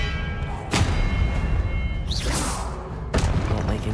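Expelliarmus spell effects in a Hogwarts wizarding game hit as loud booming thumps, three sharp impacts with a rising whoosh between them.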